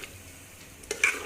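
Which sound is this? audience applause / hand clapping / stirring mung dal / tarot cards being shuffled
stirring mung dal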